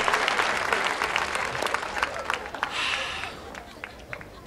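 Theatre audience applause at the Delfinario theatre, a full burst of clapping from a crowd that tapers off toward the end, with voices mixed in underneath.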